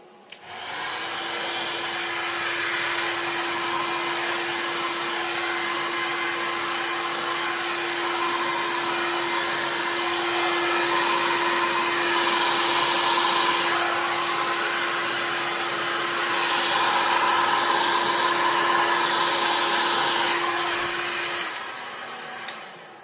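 A heat gun blows a steady, loud stream of air with a constant motor hum over a resin beach board. It runs unbroken for about twenty seconds and then switches off, and no one speaks.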